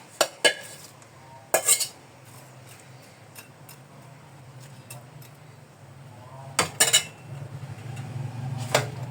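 Fish goes into a cooking pan, marked by several sharp metallic clanks and scrapes of utensils against the pan, separated by a low steady background hum and quiet cooking noise.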